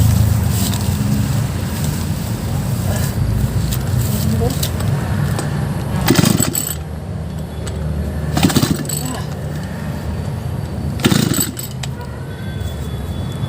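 Grass cutter engine that won't start being cranked, with a continuous low rumbling drone and three louder, rough bursts spaced about two and a half seconds apart, recorded close and fairly loud.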